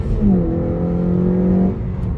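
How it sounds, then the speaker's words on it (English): A 2014 Honda Civic Si engine revs up and holds a steady hum for over a second, then eases back down, heard up close. "I love the sound of that engine."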